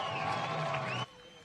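Crowd at the Summernats Burnout Masters finals applauding and cheering for a 6-cylinder burnout car, a loud, dense roar that holds steady for about a second and then cuts off abruptly.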